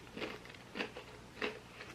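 Crunchy Japanese snack being bitten and chewed close to the mic, three distinct crisp crunches spaced about half a second apart, fairly quiet with no talking.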